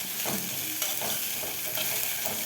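Brinjal frying in oil with onion, tomato and coriander leaves, a dense, steady crackling sizzle heard up close, with a few soft stirring scrapes and no voices.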